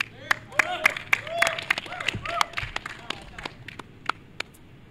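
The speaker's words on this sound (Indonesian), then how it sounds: "Tepuk tangan dong." A small studio audience claps in a brief, uneven burst of distinct handclaps that thins out toward the end.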